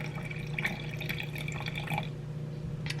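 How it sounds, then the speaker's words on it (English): Warm water, about 100 grams, is poured into sourdough ingredients in a home kitchen, a steady close trickle with faint dripping over a low hum, no talking. "And I'm going to add 100 grams of warm water."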